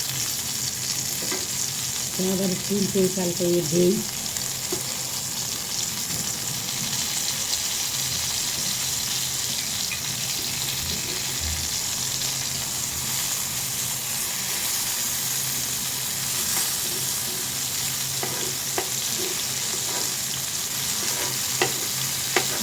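Brinjal slices fry in hot oil for a Bengali begun bhaji, giving a steady, close sizzle with occasional stirring clatter, while a voice talks briefly over it.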